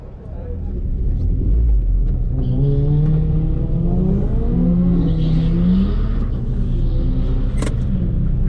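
A Mk2 VW Golf GTI with a 1.8T engine sits at a street quarter-mile drag strip at Killarney, its loud, close engine droning and revving steadily inside the cabin while someone talks over it.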